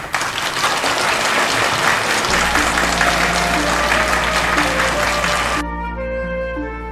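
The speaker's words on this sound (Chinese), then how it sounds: "掌声有请" An audience at an evening concert of choir and song performances applauds loudly and steadily, with the clapping running under a sustained music intro that continues alone at the end.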